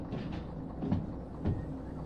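Train wheels scraping on rails in the Derail Valley video game, with a few faint grinding scratches rising over a low rumble of the moving train, no talk.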